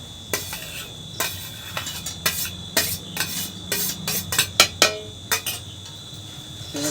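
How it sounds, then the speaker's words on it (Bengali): A utensil stirs fried egg crumbs into a filling in a pan, with irregular close scraping and clinking strokes against the metal over a faint background hum. "এবারে ভেজে রাখা ডিমের ঝুড়োটা দিয়ে দেবো।"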